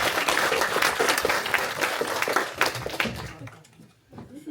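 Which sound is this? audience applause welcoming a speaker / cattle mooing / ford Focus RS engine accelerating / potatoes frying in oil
audience applause welcoming a speaker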